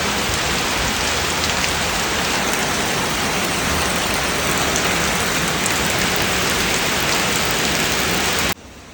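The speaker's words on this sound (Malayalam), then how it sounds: "നല്ല കാറ്റും മഴ." Heavy rain with wind on a stormy day, a loud, steady hiss of rain on surfaces lasting throughout, then cutting off abruptly near the end.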